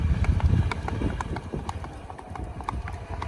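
Mare's hooves clip-clop in a steady, even rhythm on a hard road, close by, with faint voices and road noise underneath.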